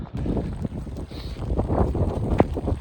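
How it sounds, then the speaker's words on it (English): Gusty wind buffets the microphone with a steady low roar, rising and falling, along with some clattering and splashing outdoors. "It's wet and it's windy."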